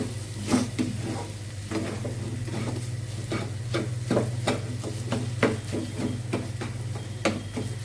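Vegetables frying in a pan with Maggi vegetable masala, a steady close sizzle broken by repeated sharp scraping stirs of a spatula, with a constant low hum underneath and no speech.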